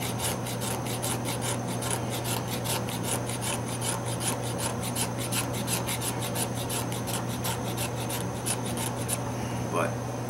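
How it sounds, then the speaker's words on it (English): A carbide scraper rasps rhythmically along a stick of fatwood, shaving off fire-starting curls in a fast, steady series of scraping strokes, close up, while someone talks throughout. "I'll just demonstrate you can use this scraper too"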